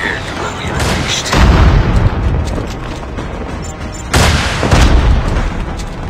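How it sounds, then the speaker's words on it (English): Two heavy booming explosions from a strafing run in the video game Archon's Hammer, Isolated campaign, land about three seconds apart, each a loud, close blast that rumbles off into a steady low background. "First round of strafing."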